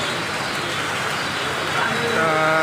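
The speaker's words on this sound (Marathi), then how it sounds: "पाऊस चालू झाला" Steady heavy monsoon rain hiss fills the clip at a weekly village market in Mangaon, a dense broadband patter that grows slightly louder toward the end, with faint background noise beneath.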